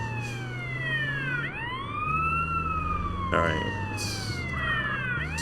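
An ambulance siren in Grand Theft Auto: San Andreas wails in steady rising and falling sweeps close by, over a low vehicle engine drone, while a voice briefly speaks.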